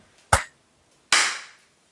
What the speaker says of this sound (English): I have to clap us in before we start talking